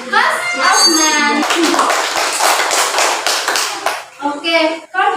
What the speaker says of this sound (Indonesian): Tepuk tangan atas jawabannya Mas Afnan.